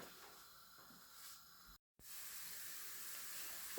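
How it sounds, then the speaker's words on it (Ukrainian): Steady broadband hiss of onions frying in a pan, a brief gap of near silence, then the sizzle resumes slightly louder. "Тому оцю цибульку я наріжу міленько і поставлю смажитися на сковорідку."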